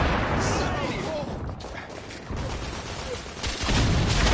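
Gunfire and a grenade blast in the video game The Order: 1886, with dense rattling shots and heavy bursts under shouted voices.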